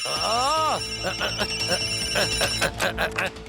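Several telephone ringtones sound at once, overlapping electronic rings with rising tones, continuing loudly alongside a busy background.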